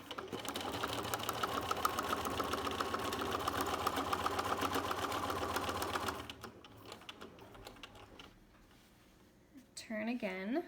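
Sewing machine stitching appliqué, a rapid close mechanical rattle of the needle running steadily for about six seconds before stopping, then quiet handling and a person speaking at the end.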